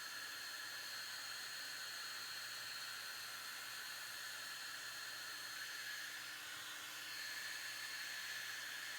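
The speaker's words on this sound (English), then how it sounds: "or use the hair dryer" A hair dryer blows steadily to dry salt sprinkled on a watercolor painting of a pomegranate, a constant airy whir with a fixed motor whine, unbroken and close for the whole stretch.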